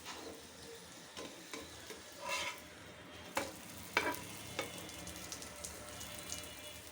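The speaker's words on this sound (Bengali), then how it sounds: "আস্তে আস্তে তেল দিয়ে এটা আস্তে আস্তে ভাজতে হয়।" Aloo paratha frying slowly in oil makes a quiet, low sizzle. Faint clinks and scraping taps break through it every so often, close by, with no talking.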